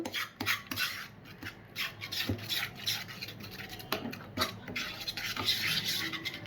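A curd hair pack mixed in a bowl, close, continuous scraping and rubbing of a spoon through a thick paste with small clinks against the bowl, no one talking.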